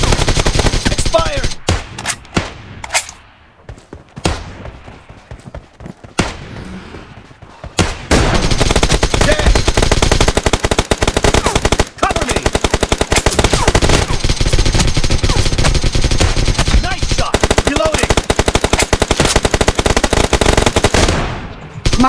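Machine gun fire in PUBG Mobile crackles in loud, rapid bursts and sustained volleys, with brief pauses between, filling the scene with dense gunfire and game effects.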